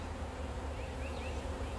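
Honey bees buzz inside an open hive during a beekeeping inspection, a steady, dense, close drone that holds level throughout with no talking.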